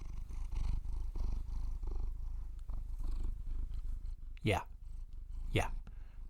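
A cat purrs close to a microphone in a steady, low rumbling drone, with quiet human speech over it and two short sharp sounds near the end.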